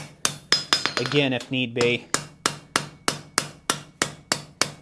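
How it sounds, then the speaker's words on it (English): Steady hammer blows on hot metal at a forge while making a collar weld, sharp evenly spaced ringing strikes close by, with someone briefly talking between early blows. "now I can hammer on this piece and brad that top down"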